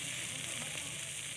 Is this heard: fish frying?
yes